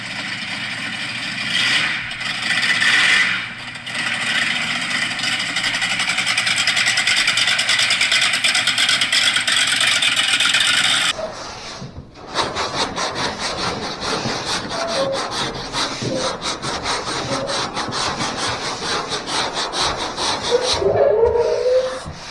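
Someone sands the side of a car by hand, giving a long, steady scraping rasp that breaks off and then resumes in rougher, uneven strokes, loud and close with no talking.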